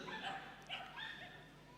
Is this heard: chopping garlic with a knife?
no